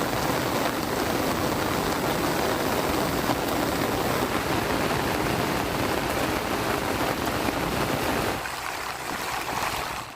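Heavy continuous rain pours steadily during a spell of persistent downpour over Tamil Nadu's coast, a dense, loud, unbroken hiss that eases slightly toward the end.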